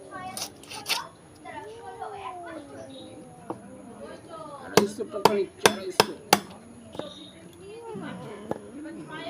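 Large katla fish being cut into pieces by knife on a board, a burst of about five sharp chopping knocks midway, with scattered lighter taps and people talking throughout.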